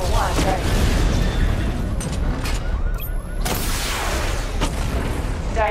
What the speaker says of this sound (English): Missile barrage that was.